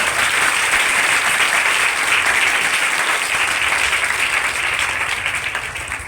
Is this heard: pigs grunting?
no